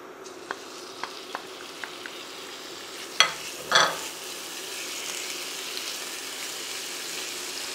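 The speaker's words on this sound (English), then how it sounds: "And the bacon here should cook by itself until it's starting to release its fat" Bacon frying in a very hot pan for boeuf bourguignon, a steady soft sizzle with a few light taps and two sharper clatters midway, then continued crackling with no talking.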